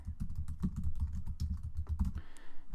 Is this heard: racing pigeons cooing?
no